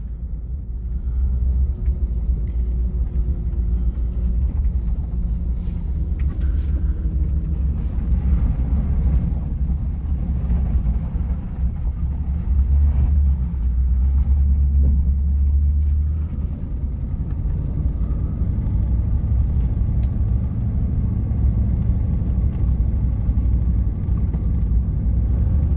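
A 1977 Rolls-Royce on the move, running rough, gives a steady, loud low engine rumble mixed with road and wind noise that holds for the whole stretch without any talking.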